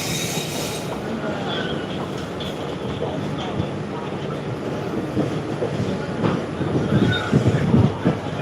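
Passenger train ride bound for Thrissur in Kerala, a steady interior rumble of rolling wheels and carriage noise with faint rhythmic rattles, growing slightly louder near the end.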